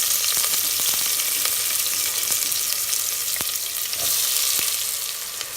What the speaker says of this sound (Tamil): எந்த பிரியாணிக்கும் நல்ல ஆனியன் நல்ல ப்ரௌன் கலரில் சேஞ்ச் ஆகிற வரைக்கும் நீங்கள் வதக்கி விடணும்